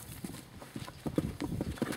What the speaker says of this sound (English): Rick, my horse is scared of a saddle blanket